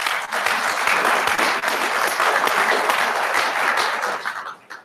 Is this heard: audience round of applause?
yes